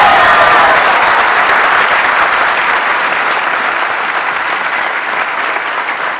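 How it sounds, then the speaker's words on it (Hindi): An audience at a live stage event applauds the speakers, a loud, dense and continuous burst of clapping from a large crowd that carries on steadily and fades slightly toward the end. "हमारे लिए तालियां बजाते हैं यार।"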